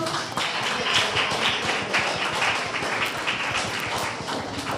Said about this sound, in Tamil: கரங்களை தட்டுவோம்.